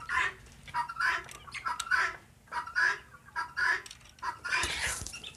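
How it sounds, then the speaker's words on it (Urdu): Five Aseel hens and two roosters cluck in repeated bursts, a steady run of close, moderately loud calls with brief pauses between them and no talking. "میرے پاس یہاں پہ 5 اصیل مرغی ہیں اور 2 مرغے ہیں پڑے"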